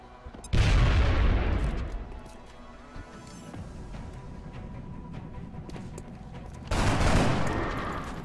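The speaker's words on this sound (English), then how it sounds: "Throwing grenade." A grenade blast from the XCOM: Enemy Unknown strategy game, a loud close boom that rolls off into a rumbling tail, followed later by a second heavy blast.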